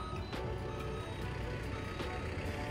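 Faint, evenly spaced electronic beeps from an EMF meter repeat about twice a second outside a house, over a constant low rumble.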